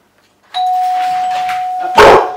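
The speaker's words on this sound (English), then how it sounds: "the doorbell is ringing." An electronic doorbell chimes loudly and alone, a sustained steady tone followed by a second brighter, noisier ding about a second and a half later, in a quiet home.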